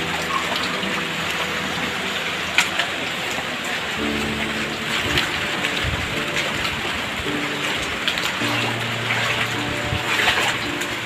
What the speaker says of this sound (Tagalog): Mas lalo pa talagang lumalakas yung tubig sa ilog.